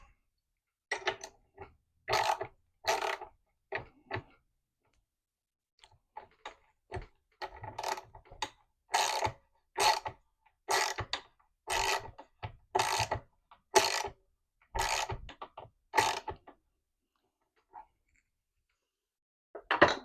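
Socket wrench ratcheting a bolt into a wooden mid-century modern dresser leg, in quick bursts of clicking strokes with short pauses between, close and clear, no talking.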